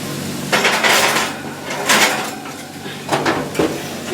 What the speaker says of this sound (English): We're going to put this in the oven.